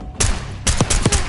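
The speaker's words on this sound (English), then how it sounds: "Contact! Enemy hit! Gunfire!" Gunfire from the Black Ops 6 campaign: loud bursts of rapid shots crack out in close succession after a brief pause, several sharp reports repeating near and dense.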